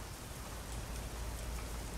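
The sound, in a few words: heavy rain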